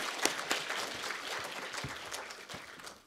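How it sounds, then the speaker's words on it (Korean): A church congregation claps for newly appointed deacons at a dedication service, a short burst of scattered, fairly close hand claps. "인사드릴 때 큰 박수 부탁드리겠습니다"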